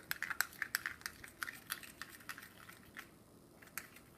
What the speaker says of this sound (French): On mélange tout.